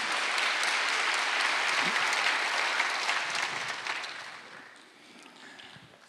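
A church congregation at a Wednesday worship service applauds in a sustained wash of many hands clapping, fairly soft and roomy, which fades toward the end before a sudden sharp sound.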